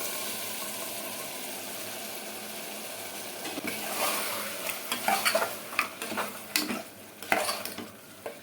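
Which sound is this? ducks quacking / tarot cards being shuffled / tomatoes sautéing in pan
tomatoes sautéing in pan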